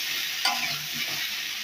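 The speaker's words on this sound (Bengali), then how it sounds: "এটাকে এবার আরেকটু ভালো করে কষিয়ে নেবো" Fish curry with fried eggplant and potatoes sautés in a pan, a steady close sizzle with soft scraping stir strokes and a brief clatter, with no voices.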